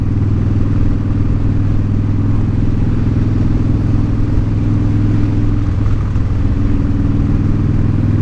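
Lawn care trucks rumbling past outside in early spring, a continuous loud engine drone with clattering undertones, steady for several seconds without speech.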